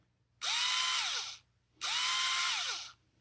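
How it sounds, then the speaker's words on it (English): A Snap-on CTS761 brushed 3/8in cordless impact wrench runs free in two separate bursts of about a second each, a loud close whirring motor spinning up and winding down with quiet between. "You can even hear the brushes on this thing."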